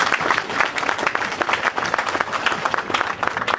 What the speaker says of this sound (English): I'd like you now to give a round of applause to Green Senator Scott Ludlam.